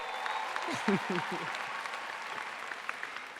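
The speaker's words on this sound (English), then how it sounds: "Parents, you should clap for that" Parents applauding at a 2017 Seguin High School graduation ceremony, a broad wash of clapping from a large audience in a big hall, steady and moderately distant, with a brief voice or cheer near the start.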